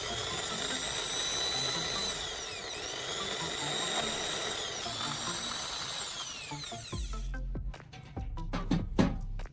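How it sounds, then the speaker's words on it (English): A high, whining power drill runs steadily for several seconds boring a hole through a plastic bottle cap, then stops, followed by a few sharp knocks and clattering handling noises. "I'm taking a discarded plastic bottle and drilling a hole through its cap."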